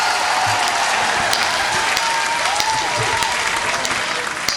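An audience at a live poetry gathering bursts into loud, dense applause, many hands clapping steadily and close for several seconds with a little crowd noise mixed in.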